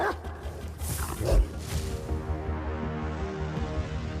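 Dogs barking and yelping in a Hindi film scene, a few sharp barks early on, then a lingering tonal ring, all moderately loud with no speech.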